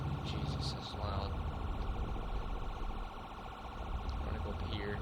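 A loud wailing ambulance siren in the video game OurLifeRPG, a steady electronic cycling tone that dominates throughout, with faint game sounds beneath.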